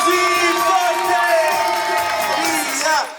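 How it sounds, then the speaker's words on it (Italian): A crowd at a wedding serenade in Bari's Madonnella quarter cheers and whoops loudly. Overlapping shouting voices run steadily for about three seconds, then drop off abruptly at the end. "applausi forte!"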